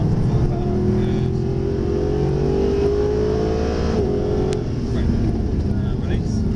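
A Mercedes SLS AMG accelerating hard at full power on a track, its engine note rising steadily and loudly over several seconds before dipping briefly and climbing again, with a driving instructor talking over it.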